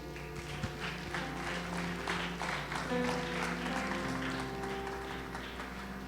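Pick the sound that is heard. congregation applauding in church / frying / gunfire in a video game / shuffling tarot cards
congregation applauding in church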